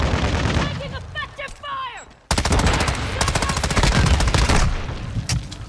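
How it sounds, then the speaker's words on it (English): Automatic weapon fire in Modern Warfare 2, a loud fast rattling burst that breaks in suddenly after a brief lull and keeps hammering for several seconds, with a voice heard earlier. "Taking effective fire."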